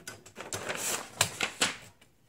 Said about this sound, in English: Torpedo 18. Such a slick, crisp, beautiful little typer.